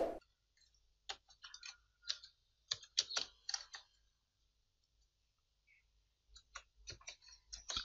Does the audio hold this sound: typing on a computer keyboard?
yes